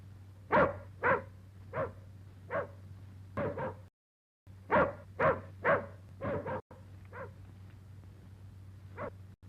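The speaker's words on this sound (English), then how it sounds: "he wouldn't bark unless there was something wrong" A dog tied up outside barks repeatedly in sharp, evenly spaced woofs at moderate distance, with a short pause partway through and softer, sparser yips toward the end over a low steady hum.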